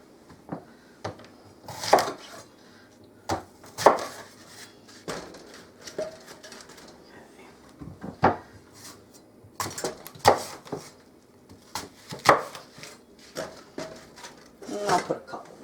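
Whole apples drop one by one into a crock pot for cider, irregular hollow thuds and knocks spaced a second or two apart, close by and fairly quiet between hits.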